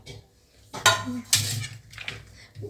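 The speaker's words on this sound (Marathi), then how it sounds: "शिमला मिरची कोथिंबीर हिरवी मिरची आणि गाजर हे सगळं एकत्र करून घ्यायचं" Capsicum, coriander, green chilli and carrot being stirred together in a metal pot, with sharp clanks and scrapes of a spoon in two loud bursts amid softer clinking.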